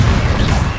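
Confringo explosive spell fired in Hogwarts Legacy, a short, heavy, crashing blast with a dull low thud filling the whole moment, loud and close.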